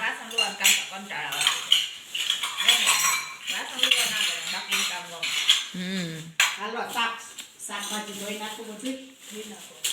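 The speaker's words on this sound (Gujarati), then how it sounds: "થોડીક સ્પીડ રાખ ભૂમિ થોડીક સ્પીડ રાખ વાસણ લોવા" Dishes and metal utensils being washed, with frequent clattering and clinking of steel pots and plates close by, under near-continuous talking.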